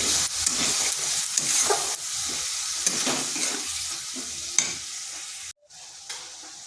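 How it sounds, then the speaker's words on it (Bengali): Spice paste with a splash of water is stir-fried in a kadai for a mushroom curry, with a loud sizzle and repeated scraping spatula strokes up close, briefly dropping out near the end. "এখানে সামান্য একটু জল দেব মশলাটা ভালো করে কষিয়ে নিচ্ছি"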